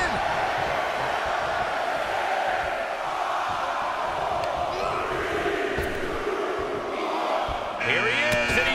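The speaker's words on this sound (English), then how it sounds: "Listen to this crowd count the next one in." A game crowd in WWE 2K22 during a 30-man Royal Rumble match roars and chants in unison, a dense continuous arena din with a brief electronic sound at the end.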